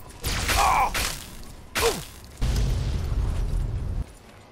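Cars exploding in the video game Fallout 3: several loud booming blasts in quick succession, sharp bursts followed by rumbling, one ending in a long roaring burn.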